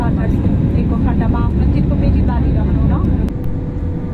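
Airliner cabin on a flight from Dhaka to Nepal, with a loud, steady engine roar throughout. A voice speaks over it near the start.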